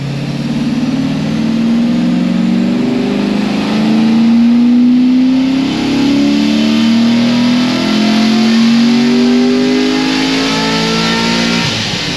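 Chevrolet Corvette Z06 on a dyno pull, a loud engine rising steadily in pitch through the revs with strong harmonic drone, one long sustained run, near and alone.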